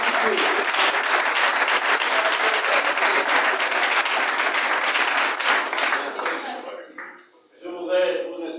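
A ceremony audience bursts into dense, loud applause that holds steady, then thins and fades out, giving way to a few scattered claps and quiet voices at the end.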